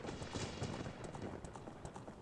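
Horse hooves gallop in Ocarina of Time 3D, a quick rhythmic clip-clop of game hoofbeats running steadily for a couple of seconds at moderate, somewhat faint level.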